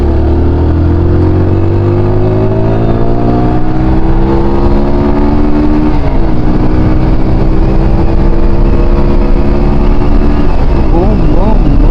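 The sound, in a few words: car engine accelerating while driving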